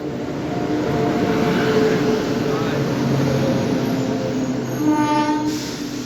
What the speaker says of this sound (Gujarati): જયપુરથી હૈદરાબાદ ટ્રેન આવી ગઈ છે